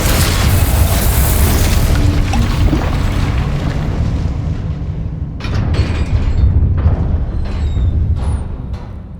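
A fiery blast from the Confringo spell in Hogwarts Legacy roars loud and broad, decaying over several seconds, with a second burst of crackling impacts near the end; no one speaks.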